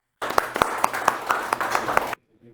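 An audience applauding a team at a dairy training session: a short burst of hand clapping with several distinct sharp claps standing out, lasting about two seconds before stopping abruptly.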